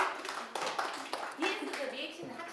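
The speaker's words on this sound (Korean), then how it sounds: "박수 한번 주시죠" Audience clapping during a university teaching lecture, a short burst of applause in a hall with voices over it.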